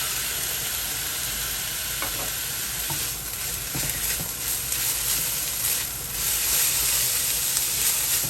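Coconut mixture for Guyanese goja parching in a pan, giving a continuous close sizzle and hiss with scraping stirring sounds mixed in, steady and fairly loud with no talking.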